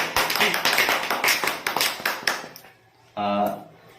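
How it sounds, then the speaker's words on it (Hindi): A crowd at a small gift-giving gathering claps loudly and rapidly for a worker named Raju for a few seconds. The clapping fades, then a voice starts speaking. "जोरदार ताली राजू भाई के"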